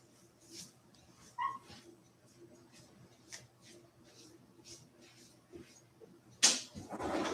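A dog whimpers and yips softly indoors in a string of short, faint, high whines, followed by a louder sudden clatter near the end.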